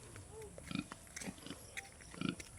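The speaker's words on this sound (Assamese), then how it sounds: "মিণ্টু মায়ে গাহৰি বৰ ডাঙৰ হৈছে" A large domestic pig grunts in short, low bursts at a farmhouse, with a few scattered grunts spread across the moment over faint outdoor background noise.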